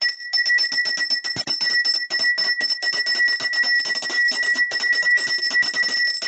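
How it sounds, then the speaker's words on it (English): A large church bell rings repeatedly in a fast, steady clanging rhythm, bright and resonant, continuing loudly throughout with no voices. "he started ringing that big bell"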